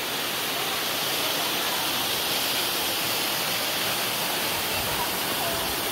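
Waterfall at Little Hawaii Falls in Hong Kong, a steady, loud broadband roar of falling water that fills the whole clip without a break.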